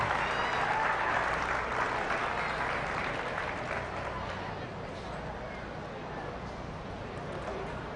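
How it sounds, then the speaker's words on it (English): Crowd applause at a youth fair and livestock show, a broad continuous clatter of many hands in a large venue that slowly eases off, with murmured voices mixed underneath. "Let's give them all a round of applause one more time"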